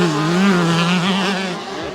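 A motocross motorcycle engine revs unevenly and loudly as it loses power, its droning pitch wavering and sagging over a couple of seconds at a dirt race track, with no talk over it.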